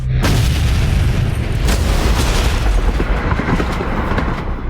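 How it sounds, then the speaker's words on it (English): Bomb blast destroying the Kremlin in the film Mission Impossible Ghost Protocol: a huge booming explosion with a deep, sustained rumbling roar and debris noise filling the whole stretch, very loud and close. "An hour ago, a bomb blew up the Kremlin."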